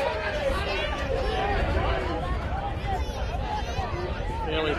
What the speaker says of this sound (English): Fairly parochial crowd here